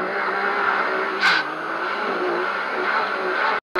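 An off-road car climbs a sand dune at Glamis with a sustained, loud, close engine roar under steady throttle, then cuts off abruptly at the end.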